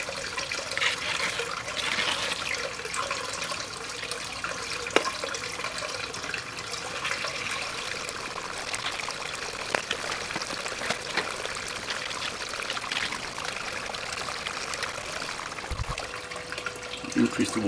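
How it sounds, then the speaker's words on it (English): Water pours and trickles steadily into a gold pan holding Alaska paydirt, a continuous close splashing flow with faint background noise and no pause. "I put some water in it."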